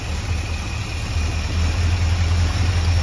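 A 1979 K-30 square-body truck engine needing its idle raised runs at idle with a steady low rumble and even throb, loud and close, building slightly toward the end.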